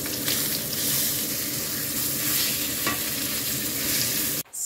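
Food stirred and fried in a pan for lunch, a steady loud sizzle with scraping of the utensil throughout, ending abruptly.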